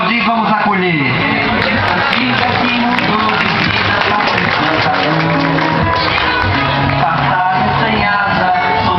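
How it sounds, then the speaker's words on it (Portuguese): Crowd at a quilombola community festival applauding and cheering to welcome the festival's king and queen, a dense roar of clapping, shouts and whoops over steady music, loud and continuous throughout. "Vamos aplaudir, vamos acolher."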